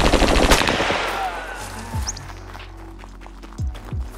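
Gunfire in the survival shooter SCUM: a rapid burst of automatic shots up front, followed by a few separate loud single shots with echoing tails.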